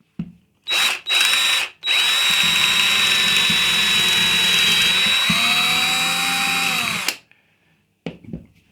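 A power drill bores a pocket hole into wood clamped in a Kreg pocket hole jig, with a couple of short bursts and then one long, loud, steady whine that winds down and stops.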